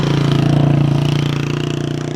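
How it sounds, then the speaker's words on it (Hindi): Motorcycle engine running close by on a street outside an old post office in Pakistan, a steady loud mid-pitched rumble with fast regular firing pulses that slowly fades as it moves away. "बाइक गुजर ले फिर मैं आपसे बात करता हूँ।"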